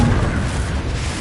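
A single Confringo explosive spell in Hogwarts Legacy lands as a deep, rumbling boom that lingers briefly, loud and dense with low-end weight.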